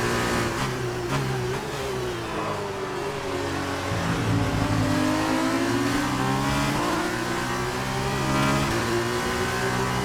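An F2 race car engine in a racing video game holds a loud, sustained drone at high revs, its pitch rising and shifting as the car accelerates and changes gear through the whole stretch.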